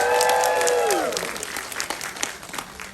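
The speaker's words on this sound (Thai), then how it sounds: "ขอเสียงปรบมือดังๆให้ ตัวเองด้วยครับ" An audience claps loudly and continuously at a Thai film event, the dense applause fading slightly toward the end as a sustained tone drops away at the start.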